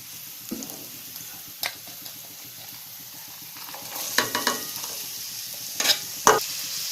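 A spoon stirs beetroot and softened salted onions frying in a pan for beetroot poriyal, giving a soft continuous sizzle broken by scattered scraping strokes that grow louder and busier in the second half.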